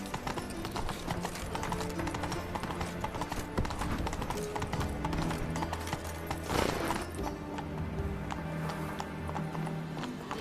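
Roach, Geralt's horse in The Witcher 3, clops along with steady hoof beats for several seconds, joined by a brief whinny midway over game ambience and music.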